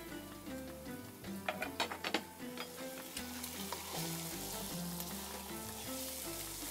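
Chicken pieces sear in a hot pan for a Kuwaiti majboos dish, giving a steady close crackling sizzle with bursts of spattering and stirring clatter, under a low continuous hum and no talking.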